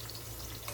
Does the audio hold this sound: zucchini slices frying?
yes